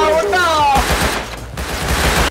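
Rapid gunfire bursts from the survival game Rust, loud and close, with a shouting voice over the first half and a dense, continuous crackle of shots throughout.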